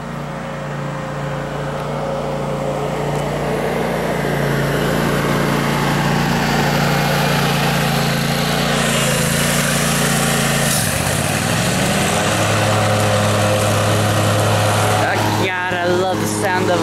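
A small Kohler engine runs steadily and loudly throughout, its low hum shifting pitch briefly midway, with faint voices underneath.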